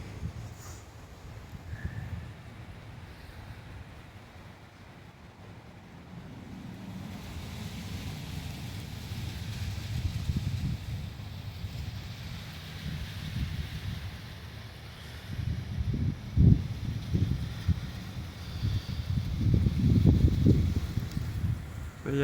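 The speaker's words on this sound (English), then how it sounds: "it's starting to get windy again" Strong gusty wind buffets an outdoor microphone at a small backyard stadium, a low rumbling roar that swells and builds louder toward the end, with a voice speaking intermittently.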